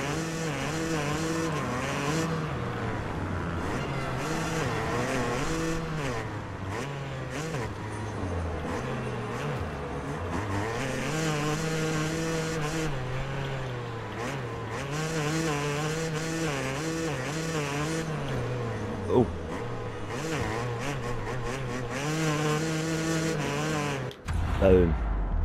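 A Yamaha YZ250 two-stroke motocross bike racing at Frauenfeld in MXGP Pro, its engine wailing steadily and rising and falling through gear changes across the lap, with a brief thump near the end.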